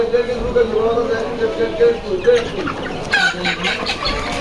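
Sonali chickens cluck and murmur in a noisy market setting, mixed with people talking nearby.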